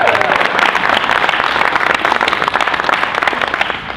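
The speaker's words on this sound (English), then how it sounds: "Give a round of applause for Comic Book Men." A convention panel audience at Florida Supercon applauds Comic Book Men in a loud, dense burst of clapping that carries steadily for several seconds.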